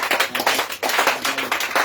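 A church congregation claps together in steady rhythmic applause to acclaim the king of kings, the dense claps continuous and fairly loud with brief dips between bursts.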